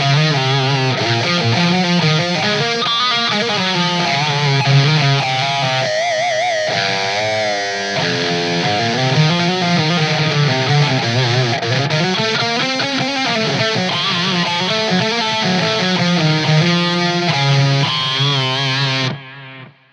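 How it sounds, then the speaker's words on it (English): Electric guitar through an amp with built-in delay and reverb, sustained melodic lines and chords ringing with echoing repeats and a wash of reverb, loud and continuous until the notes cut off at the end, with no talk. "we do have built-in effects here, like we have delay and reverb"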